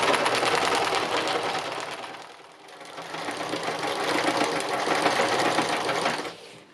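A sewing machine stitches on soluble paper with a fast, steady mechanical whirring and needle clatter, close and loud, dipping briefly once before running on and then stopping near the end.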